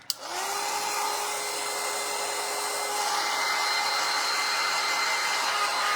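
A hair dryer blows over a grapevine wreath to dry its paint: a click as it switches on, then a steady, close whirring drone with a constant whine, and no talk.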